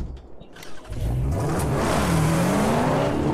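Car engine revving up loudly and steadily in the Mad Max video game after a brief quieter opening, with the pitch climbing and sliding as a vehicle pushes other cars out of the way.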